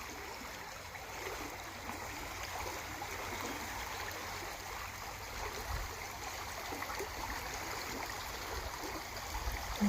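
Water from a countryside canal culvert outlet flows steadily into a widening brook during Erie Canal dewatering, a continuous rushing, trickling stream sound at moderate distance, unbroken throughout with no voices.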